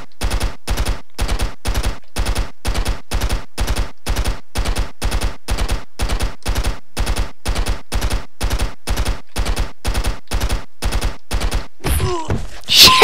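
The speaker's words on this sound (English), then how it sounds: "Let's try the AK-47 for a change." Rapid bursts of AK-47 automatic fire from the Stick Arena Dimensions game, many short evenly spaced volleys repeating loud and close for most of the stretch, ending in a brief jumbled crash.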